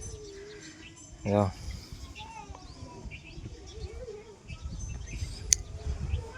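Birds call and chirp outdoors, with a short burst of cooing and scattered tweets over light wind and faint background activity.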